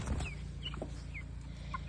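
Chickens in a pen, older hens getting used to newly tagged young birds, cluck and chirp in short scattered calls over a low steady background hum.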